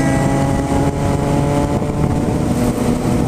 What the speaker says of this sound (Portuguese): A moto em alta velocidade, acima dos 200, ela se mantém firme.